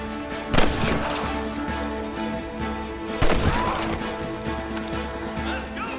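Gunshots crack in Red Dead Redemption amid a tense musical backdrop, two loud sharp reports a few seconds apart with a few fainter shots around them, and a voice calling out between them.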